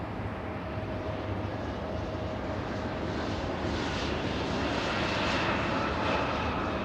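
Delta 806, an airliner, takes off from runway 24 left at LAX, producing a loud, sustained engine roar that swells gradually, heard from a distance with no talk.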